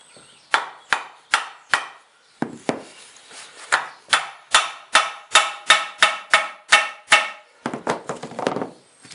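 Hammer taps on an aluminum viscous coupling from a 2002-2010 Ford Mountaineer AWD system, loosening it apart: roughly twenty sharp, close metallic knocks in a steady, fairly quick rhythm, each ringing briefly, with short pauses between bursts.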